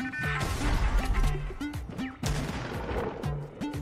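Shotgun fire in the Fortnite video game: a rapid run of loud, sharp blasts and impacts over busy in-game sound effects, with a few tonal beeps.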